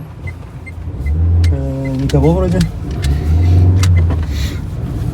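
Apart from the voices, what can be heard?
car driving past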